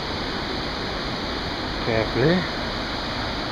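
The high waterfall at Swallow Falls State Park, Maryland, roars as a steady, full rushing wash of water. A person speaks briefly over the constant roar.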